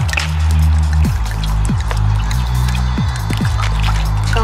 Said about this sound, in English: Add a little bit of cool water.